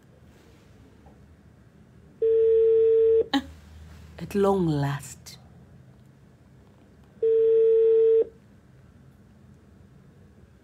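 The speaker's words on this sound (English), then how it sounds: "Yes it's now ringing" Telephone ringback tone on an outgoing call: two steady, even bursts of tone about five seconds apart, with a short stretch of speech between them.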